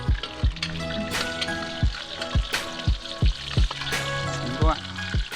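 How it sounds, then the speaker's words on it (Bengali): Ginger slices sizzle in hot oil while a Chinese fried egg with beef dish is cooked. A steady hiss runs under repeated thudding knocks and a tonal background. "তারপর এখন ফ্রাই করছেন জিঞ্জার।"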